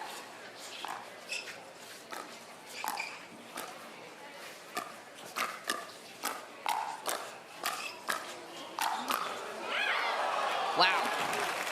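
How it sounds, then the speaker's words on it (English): At a pickleball gold-medal match, paddle hits pop in a steady rally before spectators break into a swell of applause near the end, moderately distant and under faint crowd murmurs. "they are clapping now"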